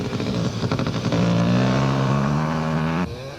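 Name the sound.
motocross motorcycles racing, KTM and Kawasaki bikes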